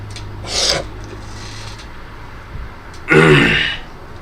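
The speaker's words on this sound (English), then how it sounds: "with me coughing." A man with a bad cold coughs twice up close, a short rough burst and then a louder, harsher one, in a quiet room.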